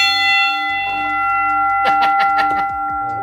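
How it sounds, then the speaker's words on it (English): A restaurant bar bell, rung as a birthday bell, sounds a sustained metallic tone that lingers, then is struck again in a rapid cluster of bright clangs near the end, loud and close. "We call it the birthday bell too."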